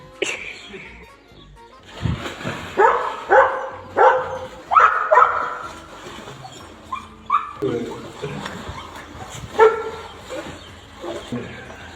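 A dog barks and yips repeatedly close by, with some whimpering mixed in among the short excited bursts, while a voice speaks over part of it.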